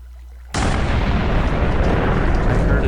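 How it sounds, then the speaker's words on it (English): A thermobaric minecart detonating in multiplayer Minecraft: after a brief low hum, a sudden loud blast erupts and rolls on as a broad, sustained roar of crackling debris for over two seconds. "I heard a gigantic explosion."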